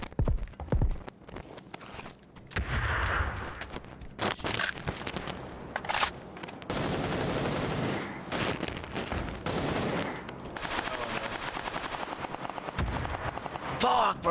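Video game firefight with a frag grenade blast and bursts of gunfire, loud and chaotic with overlapping shots and booms, players talking intermittently beneath.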